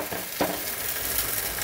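Leftover dosa batter mixed with onions scraped and stirred in a hot pan, a steady close sizzle with a sharp scrape of the spatula near the start, no voices.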